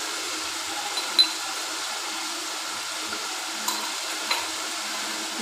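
Chicken chow mein with spaghetti sizzles steadily in a hot pan while a spoon stirs and mixes it, with a few faint clinks over the constant frying hiss.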